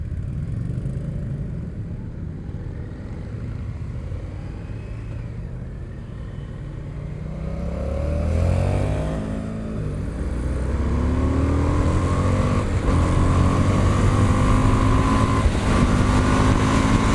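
Indian FTR Rally 2021 motorcycle engine idling near 1250 rpm, then rising as it revs, a steady close rumble with a swelling pitch and wind noise over the microphone.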